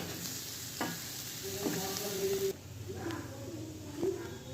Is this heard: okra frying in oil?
yes